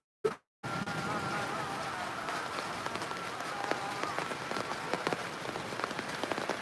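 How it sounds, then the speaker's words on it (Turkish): Steady rain patters on garden plants such as red basil and heart tomatoes in Mersin, a dense even hiss of drops with occasional louder taps, after a brief clipped sound at the start. "Mersin Fındık Pınarı'nda an itibariyle yine yağmur yağıyor."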